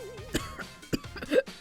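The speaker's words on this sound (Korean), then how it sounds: "요즘은 밤에도 기침 때문에 잘 못 자서 잠도 부족하고." A person with a persistent cough lets out several short, harsh coughs at uneven intervals, close and fairly loud, over a quiet background with a faint wavering tone at the start.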